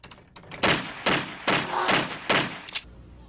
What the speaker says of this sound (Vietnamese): tiếng súng này nổ rất lớn tiếng